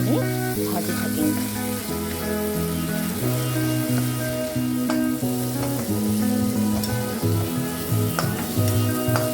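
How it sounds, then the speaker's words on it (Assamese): Tomatoes fry in oil in a pan for a tomato-based fish curry, a steady, dense sizzle that continues throughout with occasional clinks and faint music in the background. "যেতিয়ালৈকে বিলাহীখিনি তেলত গলি নাযায় তেতিয়ালৈকে মই এইখিনি ভাজি থাকিম"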